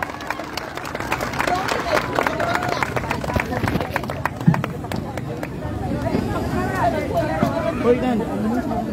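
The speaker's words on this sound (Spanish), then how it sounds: "Pero aplaudan, canten." An audience claps along in rhythm to a live sung performance, steady hand claps mixed with crowd chatter and voices throughout.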